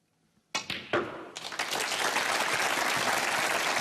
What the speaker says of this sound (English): The crowd appreciating the skills of Judd Trump here